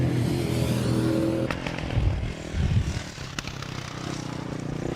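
A 560 KTM motorcycle launching off the line at a hill climb, its engine revving hard and rising through gears at a distance, steady and moderately loud.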